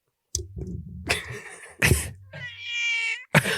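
A cat meows in a few short, squirmy calls, with one longer rising-falling meow near the end, close up in a room alongside bits of throat-like noises.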